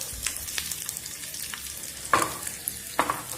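Tempering spices fry in a pan with a soft crackle, a few sharper sizzling bursts and pops, moderately quiet, no voices.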